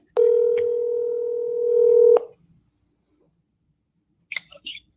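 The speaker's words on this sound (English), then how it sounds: "Let me get Deb on the phone." Telephone line dial tone, a steady loud tone lasting about two seconds and then cut off, followed after a pause by a few quick soft dialing beeps.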